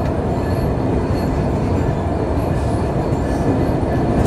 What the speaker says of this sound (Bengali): আর সামনে দেখতে পাচ্ছি বরেন্দ্র এক্সপ্রেস, সাদা চাইনিজ রেক নিয়ে বরেন্দ্র এক্সপ্রেস